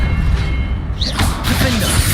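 Confringo fire spell effects in the video game Hogwarts Legacy: a dense, loud wash of crackling magic with a bright whooshing burst midway, followed by shattering and booming impacts layered over steady background rumble.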